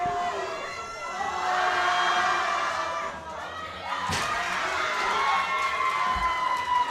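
A crowd at a high school powerlifting competition cheers and shouts for a lifter, a sustained, busy roar of many voices with an announcer speaking over it, rising and holding steady throughout.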